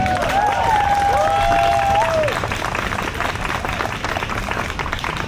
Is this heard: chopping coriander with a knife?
no